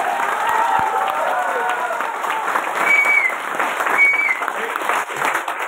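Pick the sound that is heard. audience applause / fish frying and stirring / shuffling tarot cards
audience applause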